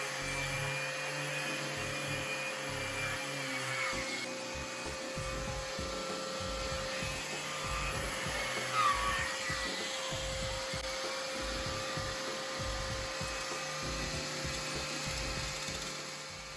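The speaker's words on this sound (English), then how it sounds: "I already know the sander is doomed" A DeWalt sander with a failing, burning motor whirs in a steady, loud, rough drone throughout, with some gritty rubbing against wood and no pauses.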